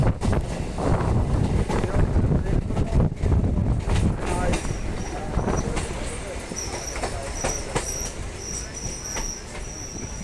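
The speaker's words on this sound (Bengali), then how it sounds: "স্টেশন থেকে বেরিয়েই এবার ট্রেন কিন্তু মোটামুটি একটা স্পিড নিয়ে" A train pulls out of Ranaghat station on the old Ranaghat–Bangaon line and picks up speed. Its steady, loud rumble carries high squealing wheel tones, with wind buffeting the microphone throughout.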